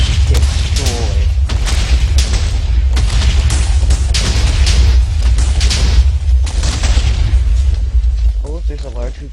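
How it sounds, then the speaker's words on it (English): Missile airburst explosions from the HBM Nuclear Tech mod in the Minecraft video game: loud, deep rumbling booms that roll on continuously with bursts and pops, while someone talks over them throughout. "this one detonates above a target. It's like pretty far above a target, and just rains down hell"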